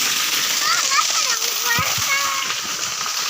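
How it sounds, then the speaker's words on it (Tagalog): Water rushes and splashes steadily at a small waterfall on a morning walk, a continuous nearby wash with a voice and other talk over it. "Yan, may falls po dito."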